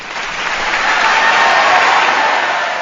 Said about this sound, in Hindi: ज़ोरदार ताड़ियूं हिन ॻाल्हि ते